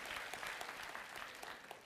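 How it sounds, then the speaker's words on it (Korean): A church congregation at a Sunday worship service claps loudly and continuously, a dense wash of many hands with no pause. "뜨거운 박수로 하나님 앞에 영광을 돌리면서 축복하도록 하겠습니다"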